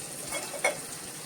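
Cashew pieces roasting in a pan for rice-rava upma give a steady soft sizzle with a brief stirring scrape partway through, close and fairly quiet, with no talk.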